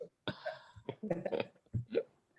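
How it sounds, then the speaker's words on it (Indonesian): Several short, harsh bursts in quick succession, a close cough or two with brief throaty noises between them. "Batuk."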